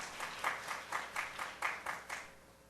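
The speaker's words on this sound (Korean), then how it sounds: "박수 좀 쳐줘봐요" A church audience claps in unison, roughly eight evenly spaced, soft handclaps in a regular rhythm that fade out at the end.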